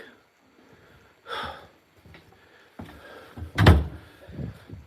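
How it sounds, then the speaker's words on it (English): A door in an old mortuary bangs loudly once amid heavy breathing and gasps nearby. "Close the goddamn door."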